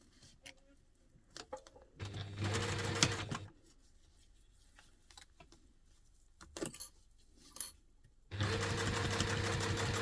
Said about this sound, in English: we're going to take that to the machine and we're going to stitch that round with the seam allowance